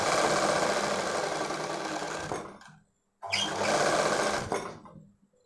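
A sewing machine stitches a boat-neck baby frock in two loud, close bursts of rapid, even needle whirring, separated by a brief silent pause, with no talk.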